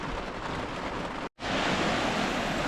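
A flooded, fast-running creek at a campground surges loudly and steadily nearby, a dense roar of rushing water that briefly cuts out for a moment midway.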